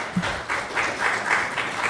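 Audience applause at a Sunday feast program, honoring a family celebrating a child's sixth birthday, a steady wash of many hands clapping at moderate volume with faint voices underneath.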